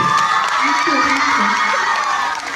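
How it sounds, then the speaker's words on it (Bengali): A large crowd roars and cheers at a live event with Ditipriya in Bardhaman, a dense, loud wash of voices and shouts that holds steady for a few seconds before easing slightly at the end. "একবার জোরে হাতের তালি সবাই মিলে"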